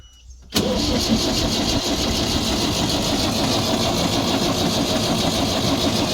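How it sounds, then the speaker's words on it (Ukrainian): A Case JX110 tractor cranks without starting after a new battery was fitted. After a brief quiet moment the starter kicks in abruptly and the engine turns over with a steady, loud, close mechanical drone that never catches. No voices are heard. "Круто, добре, а заводиться ні."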